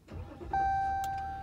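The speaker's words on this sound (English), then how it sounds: "let me start the truck up first. Listen to that power." A 2017 Ram 1500 EcoDiesel with a 3-liter turbo engine starts up close by: a short cranking churn, then the engine catches and settles into a steady idle with a faint high whine.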